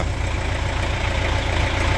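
An MTZ 80 tractor engine, just repaired, runs at a steady idle with a constant loud diesel rumble and rapid even pulsing, close by and without speech.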